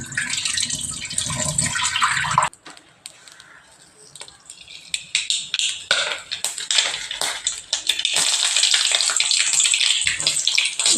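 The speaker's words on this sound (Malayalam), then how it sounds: "നല്ലപോലെ ഇങ്ങനെ കഴുകി എടുക്കുന്നുണ്ട്. നല്ലപോലെ കഴുകണം." Drumstick flowers are washed under a running tap, and the steady loud gush of water fills almost the whole stretch. The flow pauses briefly, then returns with sloshing and splashing as the flowers are rinsed by hand. There is almost no talk.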